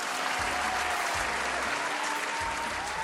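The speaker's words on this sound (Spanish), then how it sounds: "para quien pido un fuerte aplauso" An audience applauds a mathematics teacher at a pre-university class. Dense, even clapping is loud and continuous for a few seconds, with no talking over it.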